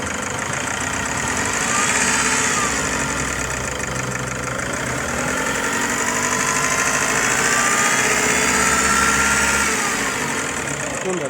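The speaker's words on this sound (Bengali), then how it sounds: "এক ফুটে গাড়ি যে স্টার্ট হলো, খুবই সুন্দর ইঞ্জিন পারফরমেন্স এবং ইঞ্জিনের সাউন্ডটা" A car engine from a 5-series model with dual AC runs steadily at close range, its mid-pitched drone rising and falling through the whole stretch as the throttle is blipped, with a faint voice underneath.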